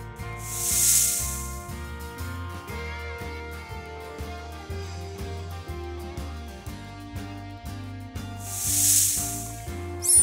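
Two long, airy snake hisses, one near the start and one near the end, sound over a continuous rhythmic music bed, moderately loud and close.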